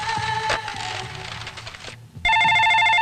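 A telephone rings indoors, a bright repeating electronic bell that cuts in loud and sustained after a stretch of quieter background sounds.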